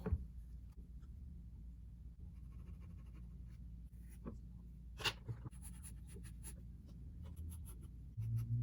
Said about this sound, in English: See, with a sharpened eraser, I can draw like